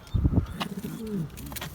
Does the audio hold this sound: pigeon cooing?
yes